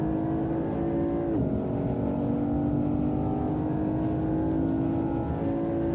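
A Porsche Panamera Turbo's engine drones steadily at Silverstone in a racing game, with one quick gear-change dip before the pitch holds high again under acceleration, continuous and prominent with no talk.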